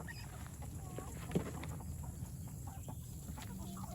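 A rooster clucks softly a few times as it eases out of a carrier, faint against steady outdoor background noise, with one brief louder rustle or bump.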